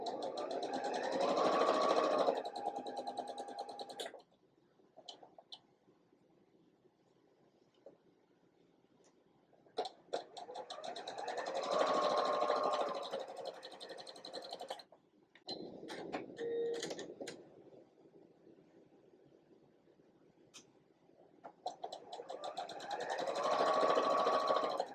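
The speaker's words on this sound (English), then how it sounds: "I'm going to sew 1/4 inch along both sides of the line for both of these sets" A sewing machine stitching quarter-inch seams on quilt block pieces runs in three bursts of rapid mechanical whirring, separated by quiet pauses with faint handling clicks.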